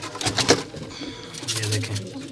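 Qasid breeding pigeons in a loft make soft cooing and fluttering calls nearby, with rustling in the background.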